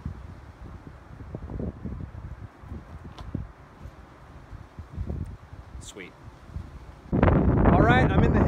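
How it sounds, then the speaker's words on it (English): Strong wind in the hills above Benicia, California, during a mountain bike ride buffets the microphone in uneven gusts, rumbling low and rising to a heavy blast near the end; brief voices are faintly audible. "It's hellaciously windy right now"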